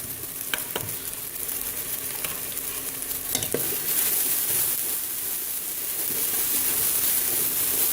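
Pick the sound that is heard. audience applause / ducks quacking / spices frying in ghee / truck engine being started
spices frying in ghee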